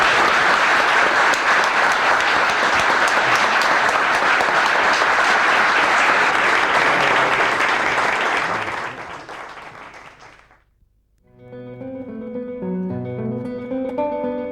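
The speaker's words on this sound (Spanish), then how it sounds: "yo les pediría a todos que para celebrar el cumpleaños les diésemos a todos un fuerte aplauso" Crowd at the Army Museum bicentenary ceremony giving a loud, sustained round of applause that fades out after about ten seconds, followed by music starting up.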